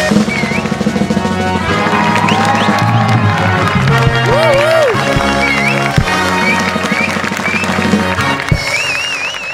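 Studio audience of a Marathi stage comedy show, Maharashtrachi Hasyajatra, clapping and cheering loudly and steadily throughout, with music playing underneath the dense crowd noise.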